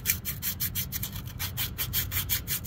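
Abrasive cloth rubbed back and forth against the curved edge of a steel fuel tank, a steady rhythmic scrubbing with a quick repeating stroke, close and clear with no talking.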